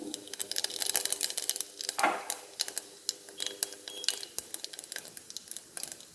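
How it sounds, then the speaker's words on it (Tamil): Fennel seeds crackle and pop in hot oil for a Tamil prawn curry, with sharp irregular ticks over a soft sizzle, and a spoon clinks against the pan nearby. "இப்போ நான் தாளிக்க போகிறேன் பெரிய சீரகம் போட போகிறேன்"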